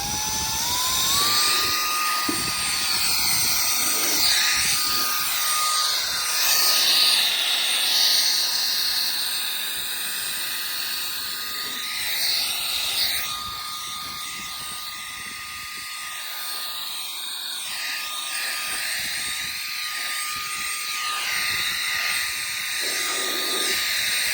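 A Dnipro-M VC-10BC cordless car vacuum cleaner runs on its third setting inside a car, a loud close hissing whine with a steady high tone that stays on throughout, shifting slightly as the nozzle moves.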